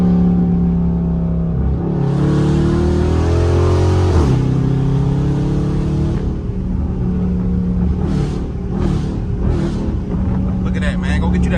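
A Dodge Charger or Challenger fitted with a pedal commander accelerates hard through second gear, a loud close engine rumble rising in pitch, then a few sharp revs near the end while someone talks excitedly.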